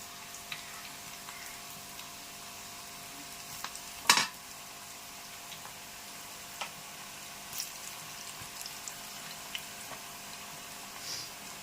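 Onion pakoda batter frying in hot oil gives a soft, continuous sizzle with scattered small pops, one sharp louder burst partway through as more batter drops in, and no talking.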